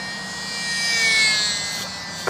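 SBACH 342 micro RC model airplane flying in calm, windless air, its small motor giving a steady high-pitched whine that swells as it passes nearer and fades again, alone with no talk.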